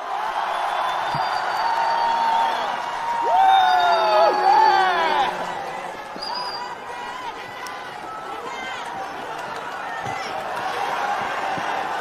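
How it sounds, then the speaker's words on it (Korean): A large crowd at a political rally in Gwangju opposing President Yoon's impeachment roars steadily for an arriving speaker, with shouts and whistle-like calls rising over a dense, continuous din of voices for about twelve seconds. "전한길 선생님 오실 때 뜨거운 함성 부탁드립니다"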